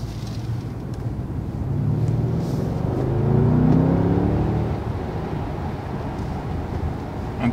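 A 2019 Mercedes-Benz S 560 Coupe weighing 2050 kg accelerates hard in comfort mode, its engine rumble swelling and rising in pitch midway before easing back, heard from inside the car without speech.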